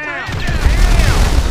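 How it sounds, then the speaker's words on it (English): A grenade blast in GTA V booms out suddenly after a brief quiet start, then rolls on as a loud, rumbling tail with crackling debris through the rest of the moment. "Was that a grenade?"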